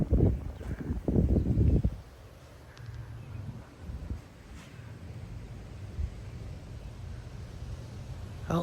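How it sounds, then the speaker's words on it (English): Wind gusts in the outer bands of a severe thunderstorm with rain in Plano, Texas: a loud, buffeting gust roars for about two seconds, then settles into a quieter, steady rushing rumble. "Oh, there's the wind."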